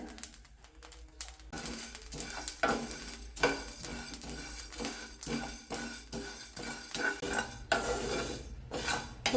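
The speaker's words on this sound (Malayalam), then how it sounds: "അപ്പോൾ ഇതിങ്ങനെ നന്നായിട്ട് പൊട്ടി വരുന്ന ശബ്ദം കേൾക്കാം" Ingredients for idli and dosa chutney powder are roasted in a pan on a medium flame, giving close, irregular scraping and stirring with a light sizzle and scattered small pops.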